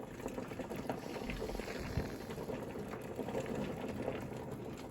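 A pan of water at a rolling boil for a water-bath canning of homemade chocolate syrup jars, giving a steady close bubbling and rumbling hiss that runs unbroken throughout.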